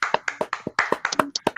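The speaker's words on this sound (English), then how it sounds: "Everybody clap your hands." A group of people clapping their hands in a quick, uneven run of sharp claps, close and fairly loud, with no talking.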